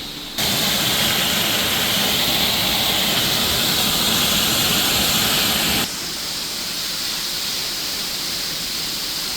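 Old mill machinery and pulleys driven by an outdoor water wheel make a steady, loud broadband whir and rumble that runs continuously, dropping slightly in level partway through.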